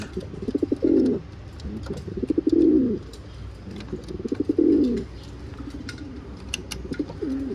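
Young racing pigeons in a garden give repeated low cooing bursts, about four rolling coos spaced a second or so apart, close and moderately loud, with faint chirps and light background noise.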